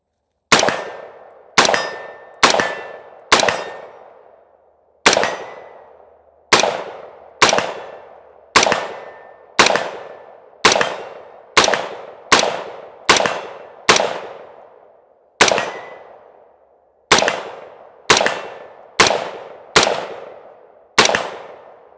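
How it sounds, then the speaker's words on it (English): Around nineteen sharp, loud rifle shots from a Colt M4 Carbine LE6920 with a 16-inch barrel ring out at an irregular pace, each with a quick decaying ring. "I'm going to put some rounds downrange and shoot it."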